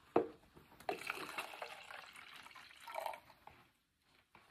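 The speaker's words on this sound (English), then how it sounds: "I'm going to pour the urine from the bedpan into the graduate." Urine poured from a bedpan into a graduated measuring container during a nursing skills demonstration, a faint, uneven trickle and splash with small drips, fading into near silence at the end.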